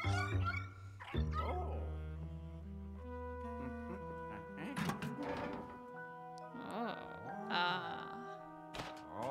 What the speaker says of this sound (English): This dog scares me more than literally anything.